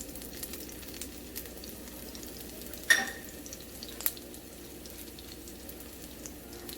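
Cumin seeds hit a hot pan for a dried shrimp masala and set off a steady soft sizzle, with one sharp crackling burst and a smaller pop a moment later.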